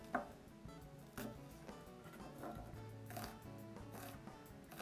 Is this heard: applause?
no